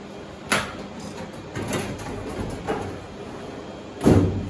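Several light knocks and rattles lead up to one firmer thud near the end as a storage drawer is shut, in a quiet room.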